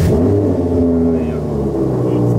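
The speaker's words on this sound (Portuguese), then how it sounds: "Cold start, né? Lá atrás que o barulho fica bonito, mano." Audi R8 engine cold-starting in the rain, a loud, close mechanical roar with strong low harmonics holding steady over a couple of seconds, no talk over it.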